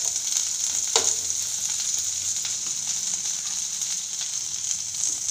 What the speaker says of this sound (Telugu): నూనె కొద్దిగా బాండీలో వేసుకొని ఒక స్పూను నెల్లేరన్నీ వేసుకొని వేయించుకోవాలన్నమాట